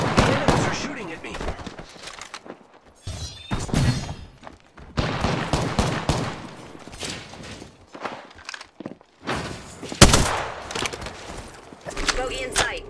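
Enemy gunfire in Apex Legends comes in short, loud bursts of shots mixed with footsteps and thuds, broken by quiet gaps, and a game voice speaks briefly.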